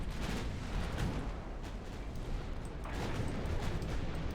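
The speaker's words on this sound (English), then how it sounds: "Another torpedo attack for my light cruiser will not do anything really" Torpedo attack by a light cruiser in the naval battle game Ultimate Admiral Dreadnoughts, heard as dense, continuous rumbling booms and blasts of battle, fairly loud and unbroken, with no voices.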